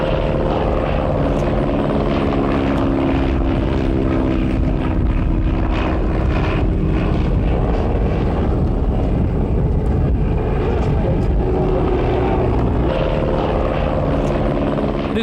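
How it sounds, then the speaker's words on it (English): Engine and propeller of a Fokker D7 WWI fighter plane drone steadily and loudly for the whole stretch, a rough continuous roar with layered harmonic hum, no talk over it. "The new aircraft was the devastating Fokker D7, unquestionably one of the best fighting aircraft of all time."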